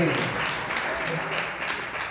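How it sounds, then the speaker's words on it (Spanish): A church congregation breaks into dense, sustained applause during a worship service, a continuous wash of many hands clapping throughout, with voices mixed in underneath. "Denle un aplauso a Cristo"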